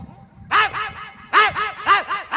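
A person imitates a dog, letting out two bursts of loud, yappy barks in quick succession, close up.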